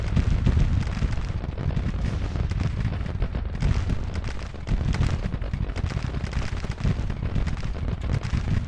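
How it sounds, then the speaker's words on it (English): Counter-battery Civil War artillery fire in the Grand Tactician: The Civil War strategy game during Sherman's Atlanta campaign, a dense, continuous rumble of overlapping cannon booms and distant blasts, loud throughout with no talk. "so counter battery fire is doing its job"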